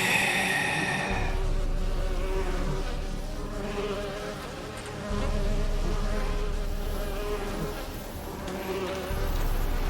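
A swarm of flies drones continuously in The Witcher 3, a dense close buzz that swells and dips slightly over the stretch with no talking.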